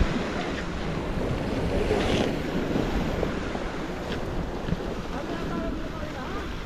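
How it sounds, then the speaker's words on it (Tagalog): Strong surf on Taal Lake churning steadily throughout, with wind buffeting the microphone and a constant roar of water; no voices stand out. "Malakas pang alon."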